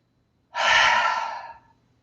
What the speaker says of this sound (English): inhaling through the nose and exhaling out the mouth